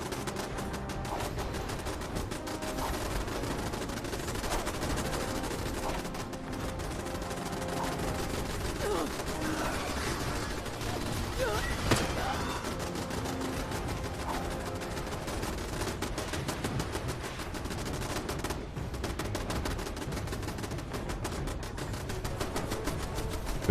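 Gunfire in the video game Fallout 76, rapid bursts and steady automatic fire running throughout at moderate level, with occasional speech mixed in.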